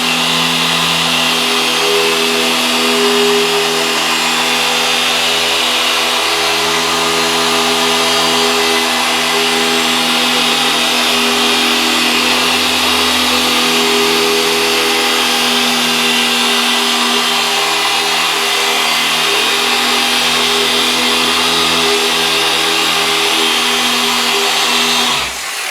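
A car polisher's pad spins at slow speed under solid pressure, a loud steady mechanical whir and drone that holds unbroken for a long stretch with no talking.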